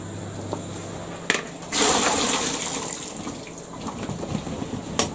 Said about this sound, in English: I'm just going to take the potatoes off, drain them